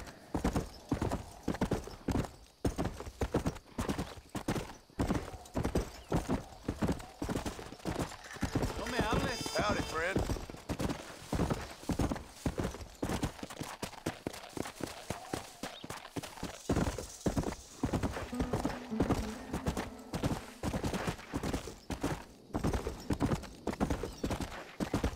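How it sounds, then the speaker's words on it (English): Horse hooves clip-clop steadily as a horse is ridden in Red Dead Redemption, a close rhythmic trot running throughout with occasional game noises layered over it. "come on, horse. Let's pick up the pace a little bit."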